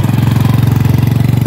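A motorcycle engine idles close by outside a church Mass in Santa Isabel do Rio Negro, Amazonas, Brazil, a loud steady low chugging with a rapid even pulse throughout.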